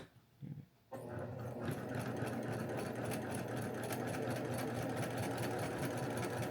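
A sewing machine stitches binding onto fabric, starting after a brief quiet moment and then running as a steady, continuous motor hum with a rapid needle rhythm throughout, close and moderately loud, with no talking.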